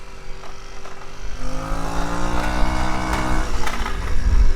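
A Tao Tao small gas-engine vehicle runs steadily at close range, its engine note climbing and holding as it revs, with a rough idle rumble underneath and no talking.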